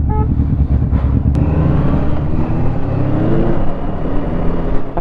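A 1973 Honda CB750 motorcycle with an aftermarket exhaust pipe revs, a loud, close, throaty rumble that rises and falls, with wind and road noise mixed in.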